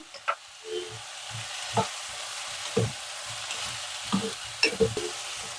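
Beans and moong dal frying uncovered in a pan with salt, chilli powder and green chillies: steady quiet sizzle broken by regular spatula scrapes and taps roughly once a second, no voices.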